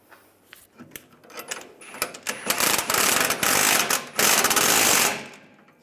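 Hand ratchet tightening a nut on a rear leveling kit of a 2007-2013 Chevrolet Silverado 1500, rapid clicking that begins in sparse ticks and builds into a dense, continuous run of clicks before stopping, close and alone.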